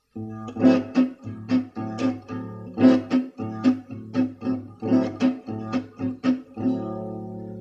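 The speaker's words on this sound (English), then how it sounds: "let's find another variation of the bolero rhythm" Acoustic guitar plays a bolero rhythm variation in a steady pattern of strummed chords, with slow pick drags across all strings punctuating the beat, close and clear with no talking.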